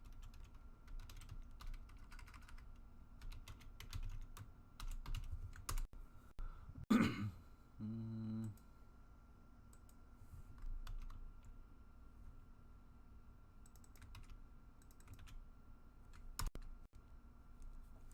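Rapid clicking on a computer keyboard in irregular bursts, close and fairly quiet, broken once by a brief cough.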